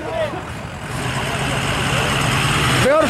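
A diesel truck engine idles at a car meet, a steady low rumble running beneath nearby voices for a few seconds.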